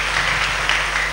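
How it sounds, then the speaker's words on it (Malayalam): Brief burst of congregational applause for children during a Sunday Holy Mass at St Joseph Church, Thevara, a dense, steady clatter of many hands filling the church throughout. "ഈ മക്കൾക്ക് ഒരു കയ്യടി കൂടെ കൊടുക്ക നമുക്ക്"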